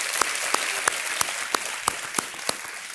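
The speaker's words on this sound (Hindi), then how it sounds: "ताली बज जाए ऑडियंस के लिए" Studio audience on a Hindi TV quiz show applauding steadily, a dense even patter punctuated by regular sharper claps.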